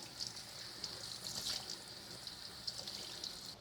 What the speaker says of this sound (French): Là, pareil, on lave le bouquet de fleurs.